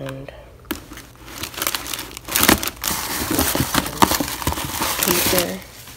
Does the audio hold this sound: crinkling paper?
yes